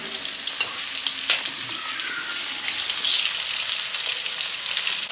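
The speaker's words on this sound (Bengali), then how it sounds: "আলুটা আমার ভাজা হয়ে গেছে, তুলে নিচ্ছি" Potato pieces fry in hot oil in a pan for a Bengali gobi chicken dish. A continuous close, bright sizzle with a few stirring scrapes, and no talking.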